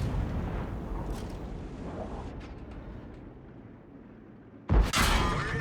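A tank gun fires in World of Tanks, a deep booming blast near the end that follows a stretch of low engine rumble and rattling.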